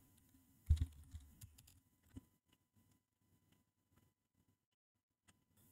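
Keys tapped on a Mac keyboard to enter a WordPress login, a short burst of clicks up front followed by scattered, fainter taps trailing off into near silence.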